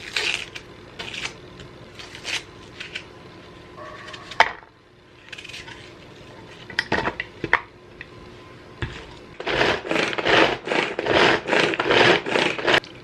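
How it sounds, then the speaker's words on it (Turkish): An onion is diced with a hand-operated onion chopper in a home kitchen. Scattered clacks and rattles give way to a quick run of repeated pumping chops near the end. "Soğanı doğrayalım. Soğan doğrayıcımla yapacağım tabii ki de."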